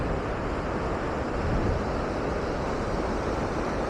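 Strong, forceful water rushing at Gundiadka (Nagundi) waterfall near Mangalore, a dense, steady roar that fills the whole stretch without a break.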